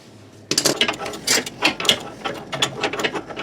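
Wrench clicking and ratcheting on a sway bar link nut of a Jeep Wrangler during a bushing job, a close, busy run of metallic clicks and taps starting after a brief quiet moment.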